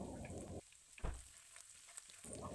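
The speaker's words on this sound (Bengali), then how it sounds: "কড়াইতে যে তেলটা বেশি হয়েছিল তার মধ্যেই আমরা আদা ও রসুন কুচিটা দিয়ে দেবো" Chopped ginger and garlic fry in leftover oil in a wok while cooking dry chilli chicken, a crackling sizzle that fades out briefly with a soft bump before the frying rises again near the end.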